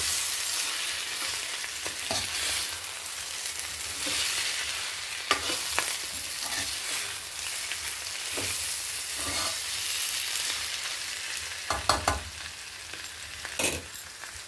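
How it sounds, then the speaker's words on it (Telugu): Potato curry with coriander powder and kasuri methi sizzles steadily in a pan while a spoon stirs it, with occasional sharp scrapes and clicks against the metal standing out over the continuous frying hiss. "ఇవన్నీ కలిసేలా తిప్పేసుకోవాలి"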